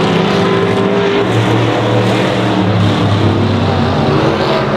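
Stock cars roar around Honor Speedway in a loud, continuous pack, engines droning and revving together with no clear gaps between them.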